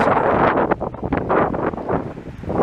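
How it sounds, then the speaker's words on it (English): Strong wind buffets the microphone outdoors on a street in Montreal's Outremont borough, a loud, close, rumbling roar that surges and dips in gusts throughout with no clear talking. "There's a little too much wind here. You're not going to hear everything I say."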